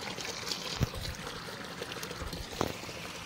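Water poured onto a garden plant outdoors: a soft, low splashing and trickle with a couple of brief louder splashes, fairly quiet and close.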